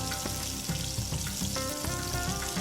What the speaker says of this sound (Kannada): ಈಗ ಹೇಳಿದ್ದೆಲ್ಲ ಐಟಮ್ನೂ ನಾವು ಒಂದು ಪ್ಯಾನ್ಗೆ ಎಣ್ಣೆ ಹಾಕ್ಕೊಂಡು ಫ್ರೈ ಮಾಡ್ಕೊಬೇಕು